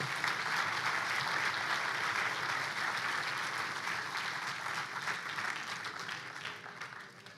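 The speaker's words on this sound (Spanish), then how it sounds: "Dale un aplauso al Señor bien fuerte" A church congregation claps loudly and continuously in a broad, dense wash of applause that holds steady and then fades gradually, with no voices standing out.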